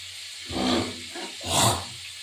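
Small sarpunti fish frying in hot oil in a pan, a broad roaring hiss that swells twice in loud bursts over a steady sizzling background, with no talking.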